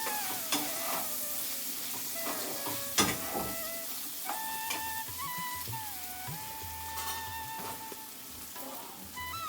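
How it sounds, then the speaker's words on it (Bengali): Red amaranth greens, eggplant, potato and peas seasoned with salt and turmeric fry lightly in a pan, a soft sizzle under scattered stirring knocks and scrapes, with faint tonal hums in the background. "দিয়ে দিলাম এটা একটু হালকা ভেজে নেব আমি"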